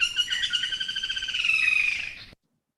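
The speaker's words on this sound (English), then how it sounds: "the greater flameback woodpecker" A greater flameback woodpecker gives a loud, sustained harsh rattling call lasting about two seconds, clear and close, with no other sounds around it.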